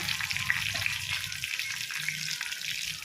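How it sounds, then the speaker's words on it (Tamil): Mustard seeds, cumin and curry leaves sizzle and crackle in hot oil, a dense continuous hiss with small pops, heard close with no talking. "எண்ணெய் ஊற்றி கடுகு சீரகம் போட்டு தாளிப்பு கொடுத்துக்கலாம்"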